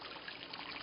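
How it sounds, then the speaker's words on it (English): Water flows steadily at a scenic outdoor spot, a soft continuous trickling wash that stays faint and even throughout, with no voices. "I hear the water."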